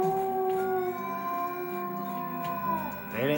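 Wolves or coyotes howl in a played film, several long, drawn-out wavering tones overlapping at moderate volume, gliding and fading before a brief rising call at the end.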